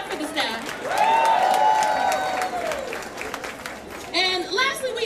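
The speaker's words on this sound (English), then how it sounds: "We also want to give a round of applause for the volunteers and the staff" Audience at a mayoral Women's Equality Day event applauding the staff, with steady clapping from a crowd and a voice calling out loudly over it.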